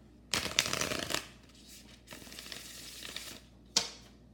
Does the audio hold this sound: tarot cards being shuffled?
yes